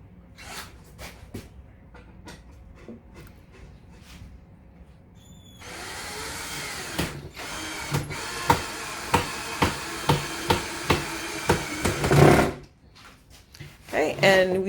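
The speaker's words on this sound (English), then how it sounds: "screw the two legs into the base with those construction screws" Power drill driving construction screws through a wooden base into 2x4 legs, with a steady whirring run broken by a rapid series of sharp pulses and a loud bite at the end, close and fairly loud, preceded by faint tapping.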